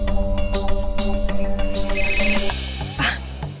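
A phone ringtone plays a steady electronic melody with repeating tonal pulses, loud and close, cutting off near the end.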